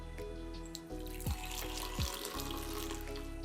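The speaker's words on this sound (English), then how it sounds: "I'm actually going to pour off some of my coffee." Coffee poured from high into a cup gives a steady, continuous liquid stream with splashy texture, close and fairly quiet throughout.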